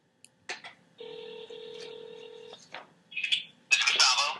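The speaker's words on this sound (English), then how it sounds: "So let's make the call and hope the internet, the phone coverage or whatever it is working." Touch-tone telephone dialing for an outgoing call: a short key beep, then a long steady dual tone lasting about a second and a half, followed by brief tone bursts and a burst of noisy line sound. Clear and close, with no talk.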